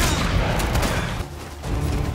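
Gunfire in the video game Uncharted: Drake's Fortune, a dense crackle of rapid shots and booms filling the short stretch, briefly thinning before picking up again, loud and close with no voices.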